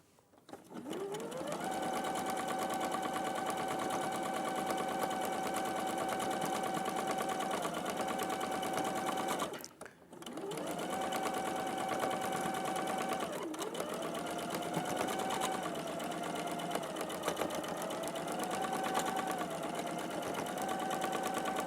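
Domestic sewing machine stitching fabric over pins, a steady close motor whir with a sustained pitched whine that runs long, pauses briefly, then resumes at slightly varying speeds.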